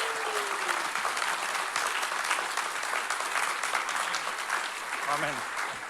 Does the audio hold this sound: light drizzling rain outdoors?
no